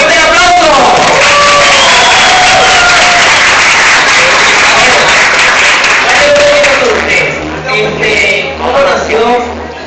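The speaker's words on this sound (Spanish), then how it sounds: "bueno, fuerte el aplauso." An audience greets a voice-dubbing actor with loud, dense applause and some cheering that fills the room, then thins toward the end as scattered voices come through.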